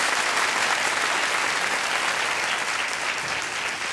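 Studio audience applauding on a Pakistani comedy show, a dense, steady wash of clapping that fills the whole stretch and fades only slightly at the end, loud and continuous with no talk over it.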